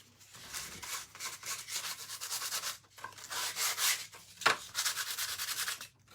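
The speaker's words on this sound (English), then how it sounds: "there's not really a whole lot to sand off here" Hand sanding paint off a stenciled craft project, rhythmic back-and-forth rubbing strokes, close and fairly soft, in bursts with brief pauses.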